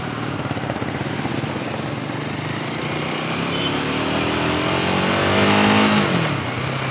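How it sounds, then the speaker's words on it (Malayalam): A Royal Enfield Himalayan 450 motorcycle engine pulls in first gear, a steady close drone that climbs in pitch as the bike accelerates, then eases off near the end, with no talking. "അപ്പം അത്യാവശ്യം എഞ്ചിൻ്റെ ഒരു സൗണ്ട് ഒക്കെ കേൾപ്പിച്ചാൽ നല്ല റിഫൈൻഡ് ആയിട്ടുള്ള എഞ്ചിനാണ്"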